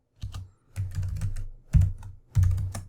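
Code being typed on a computer keyboard, close and clear, in four short bursts of quick clicking keystrokes with brief pauses between them.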